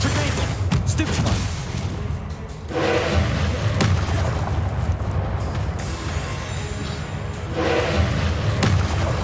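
Stupefy spell fired in the Hogwarts Legacy game, heard as a run of loud, booming magical blasts and thuds that pile into a dense, continuous roar with a few sharper impacts.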